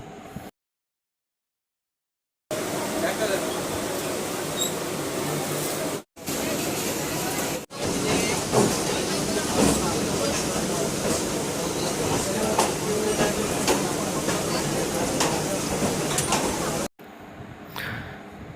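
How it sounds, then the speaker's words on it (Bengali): A train pulling out of Sealdah station in Kolkata gives a steady, loud rumble of rolling wheels and carriage noise that carries on for most of the stretch, with brief cuts, and a murmur of voices mixed in. "শিয়ালদা স্টেশন থেকে ট্রেনটি ছেড়ে দিল।"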